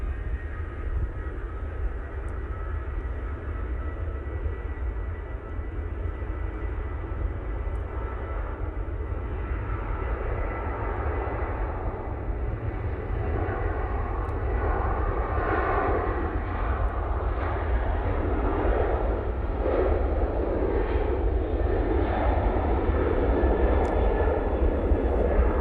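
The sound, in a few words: Ryanair airliner taking off at Manchester Airport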